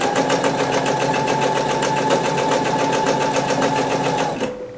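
A sewing machine stitches a quilt block in a fast, continuous, loud mechanical whirr with an even rapid rhythm, running steadily for over four seconds before stopping abruptly.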